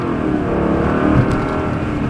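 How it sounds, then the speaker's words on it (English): A Mercedes-Benz CLK500 with a 5-liter V8 producing 300 horsepower accelerates with a steady, deep engine roar. It is loud and continuous, with no talk over it. "you're getting such a distinct V8 sound"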